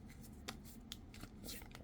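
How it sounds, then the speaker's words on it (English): A tarot card deck is shuffled in short soft riffling bursts, quiet and close, with a faint background hum. "do a proper shuffle because there are reversals here"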